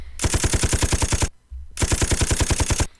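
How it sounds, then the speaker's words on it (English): Two sustained bursts of rapid automatic gunfire from a video game, each lasting about a second with a short gap between, loud and close with no talking over them. "See, this is where shots get fired and stuff."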